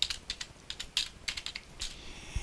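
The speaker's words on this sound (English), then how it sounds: "I'm just going to type in the word decapod" Quiet, close typing on a computer keyboard, a short burst of irregular light key taps entering a single word, with no voices.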